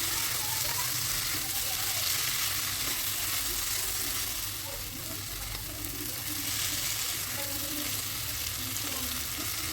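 Potato and cauliflower pieces fry with spices in hot oil, a dense, steady sizzle with soft stirring scrapes running close and loud throughout.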